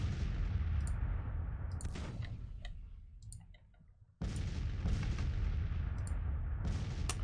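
Counter-battery artillery in the Civil War strategy game Grand Tactician: repeated sharp gun reports and crackling blasts over a constant loud battlefield rumble, easing into a quieter stretch before the barrage surges back at full strength.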